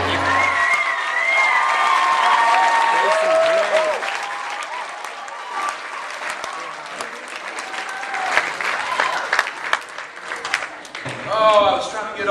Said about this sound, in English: I was trying to get all plugged in before you were done clapping and you beat me.